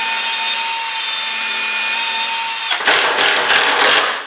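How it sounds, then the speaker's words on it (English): Near the end, a drill drives 120 mm Spax long screws through pilot holes into wood for a Gothic bench, giving several short, loud whirring bursts after a steady background hum. "we're going to drive those in with a pilot hole"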